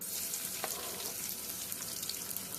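Garlic and oil fry in a heated pan for beef with bitter melon, a low, steady crackling sizzle with scattered small pops, fairly quiet and continuous.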